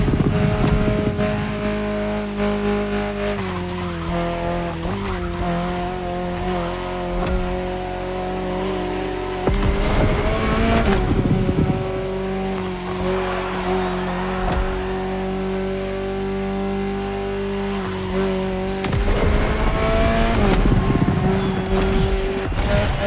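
Hydrogen-powered Alpine concept car racing in The Crew Motorfest, its engine holding a loud sustained whine that rises and falls through repeated revs and gear changes, with occasional tire squeal.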